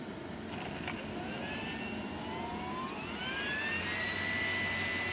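A small RC jet turbine on an E-flite Conscendo S whines as it spools up with the throttle raised, a high-pitched tone steadily rising in pitch over a constant rushing roar.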